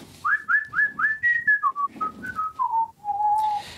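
A person whistles a quick run of short rising notes followed by a few longer falling tones, clear and close with nothing else behind it.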